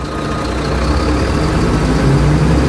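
A BharatBenz tipper truck with a Hyva hydraulic tipping jack runs its diesel engine steadily to raise the jack, a loud, close, continuous low rumble that builds slightly toward the end.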